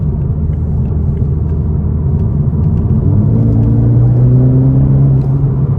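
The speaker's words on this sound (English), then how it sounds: "that turbo, when it kicks in, boy, this thing is quick." A 2021 Toyota Supra GR 2.0 turbo engine rumbles steadily and then rises in pitch as it accelerates, loud and close, with a continuous low drone throughout.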